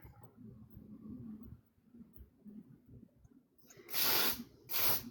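Two loud hissing bursts of liquid spray near the end follow a stretch of quiet low murmuring talk in the background.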